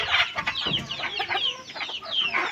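Close, busy clucking from a multicoloured rooster and several hens, overlapping calls and squawks filling the clip without pause.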